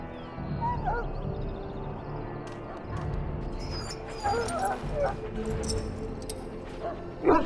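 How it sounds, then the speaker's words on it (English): A wounded dog in the fantasy game Dragon Age Origins whimpers and yips in short, high bursts, mixed with rough breathing and ambient noise, with a few louder cries near the end. "Now I can treat the dog properly, poor fella."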